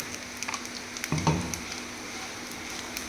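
Hot ghee hits a sizzling fish mixture in a pan, giving a brief brighter crackle over a steady frying hiss, fairly close and without talk.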